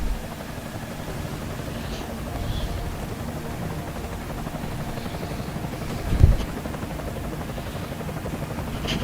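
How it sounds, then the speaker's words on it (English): Helicopter in the video game Deus Ex: Mankind Divided, a steady low rotor drone that fills the background throughout, with one brief thump near the end and no audible talking. "Enemy helo sighted."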